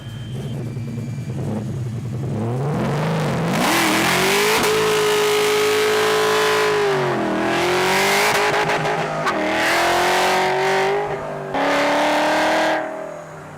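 A Chevrolet Camaro with an LT4 V8 revs hard, its engine note climbing and falling through several loud pulls, with brief dips between throttle bursts. No one speaks.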